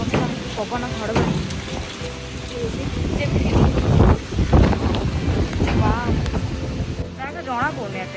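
A heavy downpour with strong wind roars as dense, constant noise, while a person talks over it throughout.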